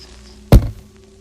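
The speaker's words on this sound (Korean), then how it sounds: "쿵, 쿵 하는 소리가 천천히 나더니" A single heavy, deep thud serves as a sound effect in a horror story set in a school late at night. It is a sharp impact with a short rumbling decay, loud against an otherwise quiet background.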